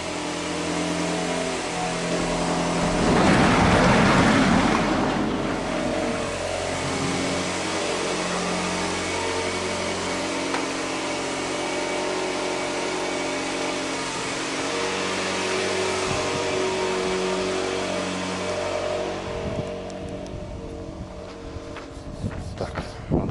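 A car engine idles steadily through a cold warm-up, a continuous low hum with a brief louder surge near the start and some clatter toward the end.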